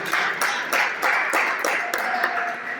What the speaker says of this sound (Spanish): Dale una ofrenda de palmas al Rey bendito